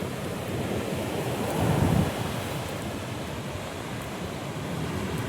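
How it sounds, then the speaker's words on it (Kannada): Sea waves break at Ullal beach near Mangalore under cool, cloudy skies, a steady close roar of surf that swells briefly before settling back into a continuous wash, with wind noise on the microphone throughout. "ಅಲೆಗಳ ಸೌಂಡು"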